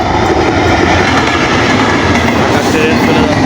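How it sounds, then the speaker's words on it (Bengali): A train rolls into Tularampur railway station, a loud, steady rumble of wheels and carriages with a faint clickety-clack, continuous and close for the whole stretch. "ট্রেন আসছে"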